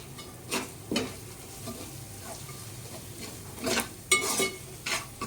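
Onions fry in a little oil in a pan for an onion egg curry, giving a soft, low sizzle under irregular scraping stirs of a spoon, some louder strokes clustering near the end, without talk.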